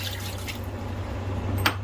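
Water steadily pouring into a metal cooking pot already holding meat, a continuous soft gushing with a light splash near the end.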